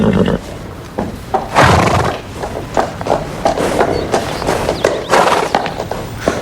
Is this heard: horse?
yes